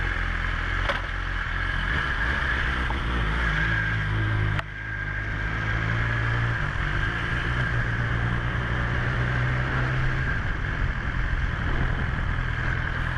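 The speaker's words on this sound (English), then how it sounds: "the bike sounds just like any other standard 4-cylinder powered bike nowadays" A BMW S 1000 XR four-cylinder motorcycle engine hums in a steady, continuous low drone, close and fairly even throughout, with no talking.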